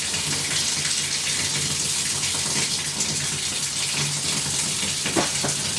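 Water rushes steadily through newly installed plumbing in a small barn-style home as air is purged, a constant loud hiss with faint sputters near the end.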